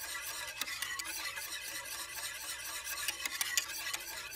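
A custard mixture stirred in a pot on the stove, a continuous soft rasping scrape of the spoon circling the bottom, with a light sizzle underneath and no talk.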